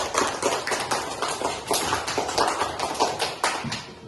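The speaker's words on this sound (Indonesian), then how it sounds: "apresiasi tepuk tangan dulu." Students in a classroom clapping their hands in applause, a brisk group clapping with a loose repeating rhythm, fairly close and steady for about four seconds before tapering off.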